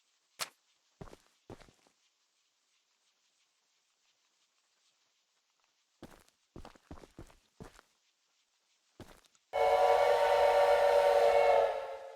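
In the Choo Choo Charles video game, a few sparse footsteps and clanks on the train give way to a loud, sustained train whistle blast near the end.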